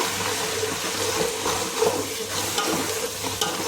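Masala with red chilli powder and coriander powder fries in a pan for Kadapa-style mutton biryani. It makes a dense, continuous sizzle close by, with stirring scrapes running through it.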